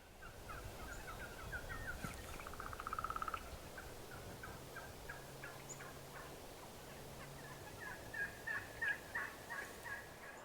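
Wild turkeys gobble and cluck from some distance in an open field, with repeated rattling calls and softer chirps over faint background noise.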